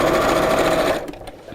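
A sewing machine runs at a fast steady pace while top stitching, a close whirring buzz that stops about a second in, leaving a few faint clicks.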